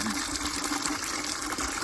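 Water pours from a bucket onto garden plants in a no-dig plot, a steady close splashing gush that runs continuously without pause.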